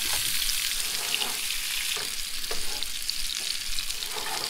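Freshly caught rainbow trout frying in a pan just after being flipped, a loud continuous close sizzle and crackle with faint spatula scrapes, no talking.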